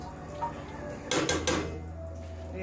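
A lid clanks down onto a pot of simmering Caribbean curry goat, making two or three quick metallic knocks close by against a quiet kitchen background.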